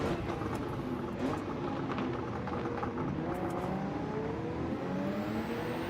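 A race car in Gran Turismo 7 brakes under a steady engine drone, with whining tones sweeping across it as the revs shift. The sound stays constant and fairly loud, with no talking.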